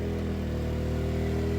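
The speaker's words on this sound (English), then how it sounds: "you can hear the generator revved up again" An Erayak 4500P inverter generator engine runs hard under load, a loud, steady, droning roar with no break across the short stretch.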